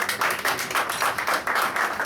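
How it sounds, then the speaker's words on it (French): An audience at an anniversary celebration of a community gathering in Indonesia claps together in a steady rhythmic beat, loud and close, with several even pulses each second. "Donc, applaudissez pour elle, s'il vous plaît."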